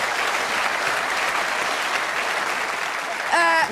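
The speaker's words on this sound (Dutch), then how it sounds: "Klapt u even voor haar mensen, dames en heren." Sustained applause from a studio audience at a Dutch TV game show, a thick, even clatter of many hands that carries on steadily before a brief tonal sound cuts in at the very end.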